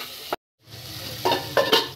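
Vegetables for paolu sizzle in a hot pan while being stirred, the frying hiss cut off briefly, then returning with bursts of louder spattering as the spoon moves them, close and without speech.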